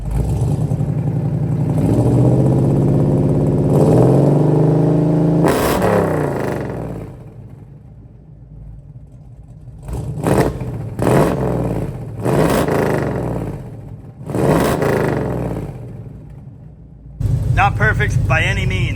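The big block engine of a 1973 Dodge Challenger revs loudly and up close in a long sustained rise, then drops away to quieter stretches with speech, before a final rev returns at the end.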